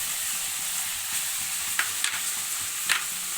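Tomatoes cook over high heat in a pan with a constant hissing sizzle, and a utensil gives a few brief scrapes and clinks against the pan; no one speaks.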